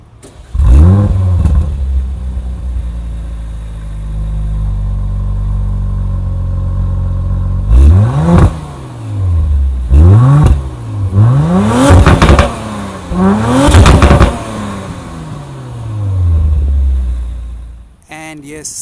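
A 2020 Audi RS4 Avant with a 2.9 liter V6 roars loud and close: one long sustained rev, then a run of sharp blips rising and falling in quick succession before it settles and cuts off.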